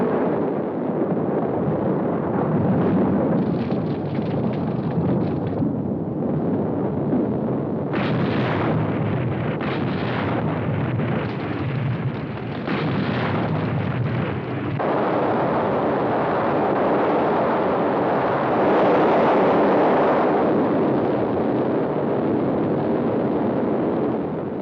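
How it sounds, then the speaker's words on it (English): The Krakatoa volcanic eruption rumbles and booms in a dense, continuous roar, heavy blasts rolling one into another with a few sharper bursts, loud and unbroken throughout. "Krakatoa literally blew itself out of the water in history's greatest explosion."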